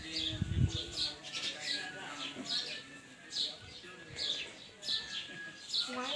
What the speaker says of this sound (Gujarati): અહીં જો ચકલીના ઘર કેટલા છે